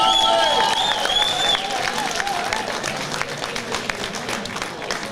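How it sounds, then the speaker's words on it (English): Applause fills a boxing club home show as a fighter is introduced, with loud sustained clapping from the crowd and a few tonal whistle-like sounds early on before it settles into steady, slightly fading clapping. "keep your applause going for his opponent, Charlie Bonner."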